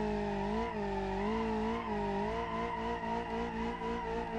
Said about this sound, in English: Ended out with a nice little burnout here